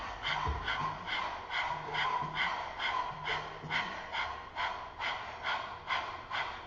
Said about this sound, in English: we'll do breath of fire in this position, so it's really just like you're panting like a dog